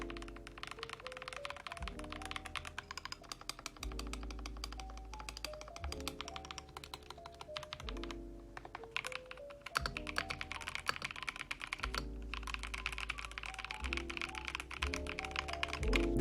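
Mechanical keyboard with pre-lubed switches being typed on, giving a close, fast run of crisp clacks with steady rhythm and a few heavier thocks from larger keys, heard alone.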